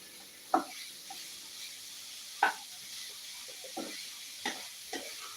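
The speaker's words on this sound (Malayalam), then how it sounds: "ഇനി നമുക്ക് ആ ഉള്ളി ഒന്ന് നടന്ന് മൂപ്പിച്ച് ഒന്ന് റെഡിയാക്കി എടുക്കാം" Onion frying in a pan gives a faint, steady sizzle. A spoon knocks against the pan a few times with sharp scraping clicks as the onion is stirred, and no one speaks.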